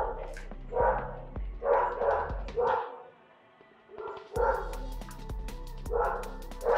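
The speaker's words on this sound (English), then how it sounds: "I hope that dog stops." A dog barks repeatedly nearby, in short clusters of sharp woofs with brief pauses between them, continuing loudly over several seconds.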